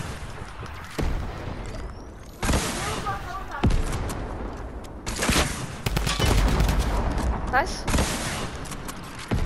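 Rapid minigun fire in a Fortnite Battle Royale match, dense bursts of loud gunfire and booms running throughout, with players talking over the shooting.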